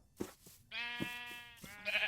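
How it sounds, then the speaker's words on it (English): Sheep bleating in a blocky survival video game, one long wavering bleat at close range followed by a second shorter bleat, with soft footstep-like thuds around them and no talking. "There's some sheep right here."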